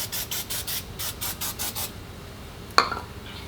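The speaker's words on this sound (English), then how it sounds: "you can spray it directly on the trim itself" Cleaner sprayed from a trigger bottle onto the flat black plastic trim of a Toyota TRD Pro truck, about nine quick close-up spray bursts, then a short rubbing or wiping sound ending in a sharp click or tap.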